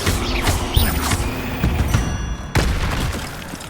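An Incendio fire spell cast in Hogwarts Legacy, heard as a loud, dense burst of booming, crackling magical impacts with a sharp renewed blast midway, close and continuous.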